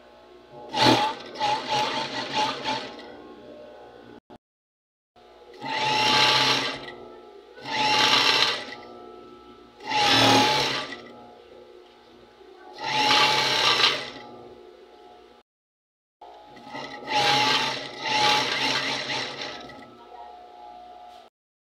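Sewing machine stitching a garment while its loose elastic waistband is being replaced, running in a series of loud rapid whirring bursts of a few seconds each, separated by brief pauses.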